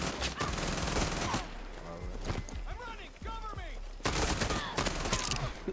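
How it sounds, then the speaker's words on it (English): Machine gun fire in the shooter Far Cry 6 during a co-op fight, dense bursts of rapid shots at the start and end with scattered single cracks and whizzing sounds between, loud and near. "Machine gun goes."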